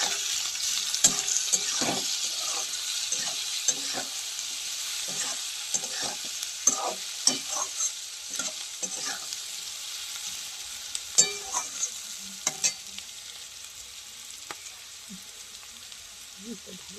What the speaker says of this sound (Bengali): হলুদ আর নুন দিয়ে আলু পেঁয়াজটা ভাজা হচ্ছে।